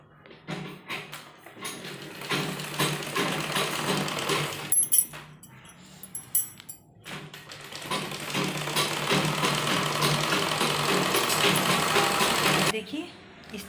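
A sewing machine stitches baby frock fabric pieces in fast, steady runs, pausing briefly between bursts, while someone talks over the work.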